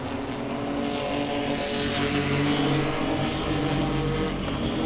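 Pro-Six race cars battle side by side into turn two at Langley Speedway, a steady loud roar of several engines with layered droning tones holding through the whole stretch, no voices.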